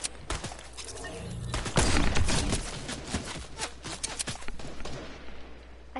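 Gunfire crackles in a PS4 shooter, with rapid bursts of sharp shots and a heavier cluster of blasts near the middle, moderately loud over a low background hum and without voices.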